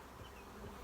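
Honeybees buzzing around a hive, a faint, steady low drone lasting under a second with no voices.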